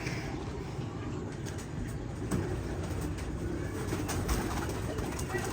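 Pigeons coo softly and repeatedly, several birds close by, over a steady low rumble.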